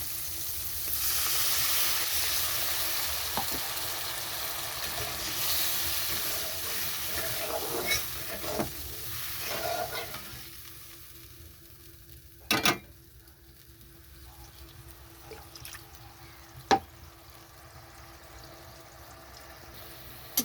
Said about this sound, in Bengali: ঝোলটা খুব ভালো মতো ফোটাতে হবে